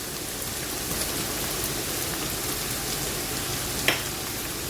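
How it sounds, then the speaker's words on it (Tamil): Crushed garlic fries in hot oil with onions in a pan, giving a steady, even sizzle throughout, fairly quiet and close with no talking. "உள்ளே போட்டுட்டு நல்லா எண்ணெயில் வதக்கிடலாம்."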